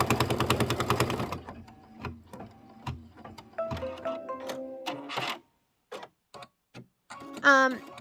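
A sewing machine running fast with a rapid rhythmic thumping from a needle that may need replacing, then slowing into scattered ticks and clunks before a short squeaky whir near the end.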